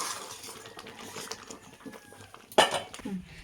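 A spoon stirs mung dal with drumsticks in a pot, with faint soft scraping and then one sharp metallic clink against the pot's rim.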